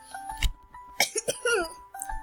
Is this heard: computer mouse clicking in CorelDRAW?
no